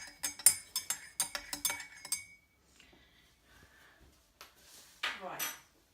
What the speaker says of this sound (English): one last stir.